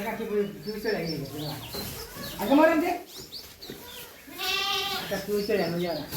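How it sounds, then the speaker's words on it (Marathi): Goats bleat several times in wavering, nasal cries, close by, with people talking over and between the calls. "इकडे सगळ्या आपल्या शेळ्या बांधल्यात"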